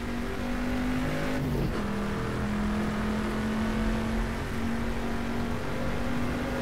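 A Corvette C3 race car engine drones at Sebring in the racing game GTR2, a loud continuous close-up roar with a steady whining pitch that dips briefly, as on a gear change, then holds.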